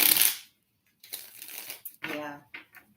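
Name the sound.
tarot cards being shuffled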